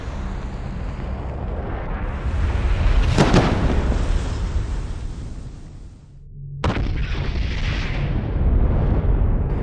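A blank gun fires through flames, a sudden loud burst rising out of a steady roaring rush of fire, which briefly drops away and then roars back.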